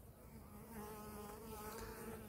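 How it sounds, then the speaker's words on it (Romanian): A single honeybee buzzes close by, hovering near a hand in a quiet outdoor setting, a faint continuous droning hum that wavers slightly in pitch. "Albinuța asta ce are de gând?"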